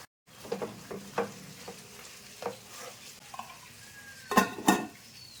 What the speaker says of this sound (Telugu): స్టవ్ మీద ఒక కడాయి పెట్టి అందులో ఆకు వేసుకొని 2 పచ్చిమిర్చి, అలాగే చిన్న సైజు మ్యాంగో ముక్కల్ని 1/2 స్పూన్ సాల్ట్ వేసుకొని మెత్తని పేస్ట్లా ఉడికించుకోవాలి